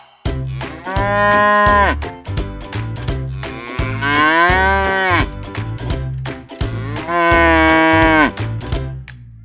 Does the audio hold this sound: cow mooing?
yes